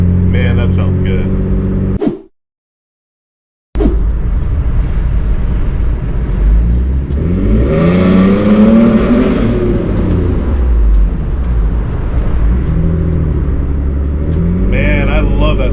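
A fourth-generation Toyota 4Runner with new headers and a Gibson cat-back exhaust idles with a deep rumble, then revs up and back down in a smooth, throaty rise. The sound cuts out briefly near the start.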